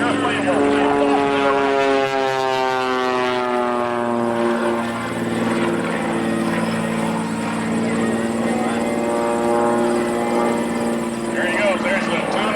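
A propeller aerobatic airplane performs a 2.5 vertical snap at reduced power during an airshow, its engine drone sliding and wavering steadily overhead while a commentator talks over it throughout.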